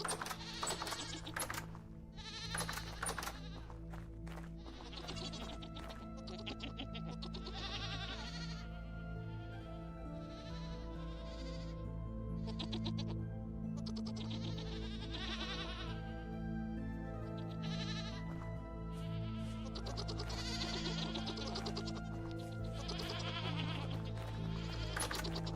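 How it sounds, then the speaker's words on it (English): Goats in a survival video game bleat repeatedly and overlap, loud and continuous, over a steady low background hum with no talk. "This is the worst part about dealing with goats."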